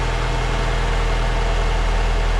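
A Peugeot 508 engine idling steadily with a low, even rumble, unchanging throughout and fairly loud, warming up during an automatic transmission oil change.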